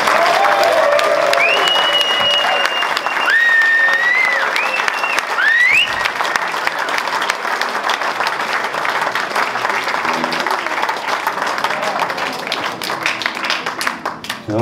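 A crowd gives warm, loud, sustained applause to a Belgian singer at a live performance, dense clapping running the whole time, with whistles and cheering voices rising over it early on.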